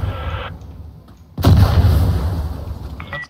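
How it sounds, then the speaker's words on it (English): In the Insurgency: Sandstorm video game, a gas grenade is fired with a loud, sharp launch. A rumbling, hissing tail follows and fades over about two seconds, and fainter background sounds come before it. "They're firing gas at us"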